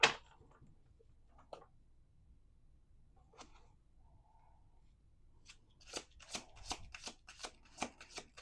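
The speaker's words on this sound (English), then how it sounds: "We're going to do 2 more shuffles" Tarot card shuffling: a few soft riffles and taps early, then a louder, rapid run of crisp riffling flicks near the end, with no talking.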